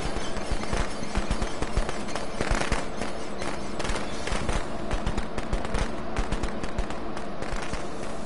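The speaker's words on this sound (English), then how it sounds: "what a waste of firecrackers" Firecrackers explode in a PS4 video game, a dense, continuous crackle of rapid bangs and pops lasting throughout, loud and close with no pauses.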